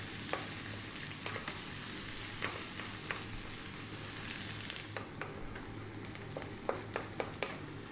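Steady sizzling and crackling of onions frying on high heat with curry leaves and spices, with occasional pops and scraping stirs, fairly quiet and with no talking.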